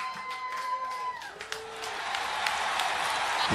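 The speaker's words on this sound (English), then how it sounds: "Make some noise for Rocky Wallace," Crowd applause and cheering swell up after a brief voice, a dense wash of clapping and whoops building in volume and continuing to the end.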